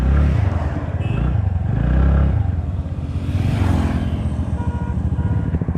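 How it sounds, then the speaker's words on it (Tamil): A TVS NTORQ BS4 scooter being ridden, its engine and exhaust giving a steady, loud, close drone that rises and falls slightly with throttle over a few seconds, with no talking. "எக்ஸாஸ்ட் நோட்டை கேளுங்க."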